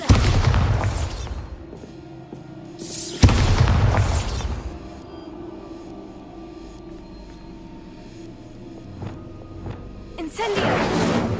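The Bombarda blasting spell in Hogwarts Legacy sets off two loud, booming explosions with rushing debris, a quieter stretch of game ambience between them, and a third burst starting at the end.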